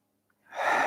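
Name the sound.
breathing in during a tai chi and qigong exercise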